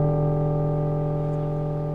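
Korg Volca Drum voice sent through its resonator, a sustained ringing tone with stacked steady harmonics, loud and close, decaying very slowly over two seconds with no talk.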